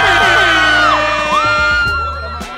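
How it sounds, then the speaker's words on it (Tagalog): Someone shouts loudly at a crowded night market in Baguio, her sustained, pitch-bending call ringing out close and strong over the crowd. "Ayan o, sigaw na naman siya!"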